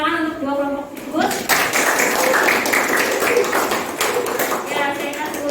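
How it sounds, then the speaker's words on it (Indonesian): A burst of applause from a school classroom of high school students fills several seconds for two student groups, dense and fairly near, with a voice speaking just before it starts and again as it fades. "tepuk tangan untuk dua kelompok tersebut"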